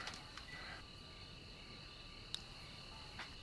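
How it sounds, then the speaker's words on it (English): Faint, steady high-pitched chirping of crickets at night in a train simulator game, a quiet continuous drone with a few brief clicks, no talk over it. "So quiet you can hear the crickets chirping."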